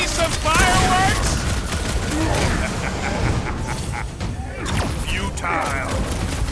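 Bursts of gunfire in a Guardians of the Galaxy video game battle, dense and loud, layered with clanking effects and characters talking over it.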